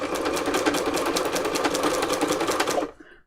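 A sewing machine stitching free motion embroidery with black thread on a junk journal cover runs in a fast, steady, loud rattle close up, then stops abruptly near the end.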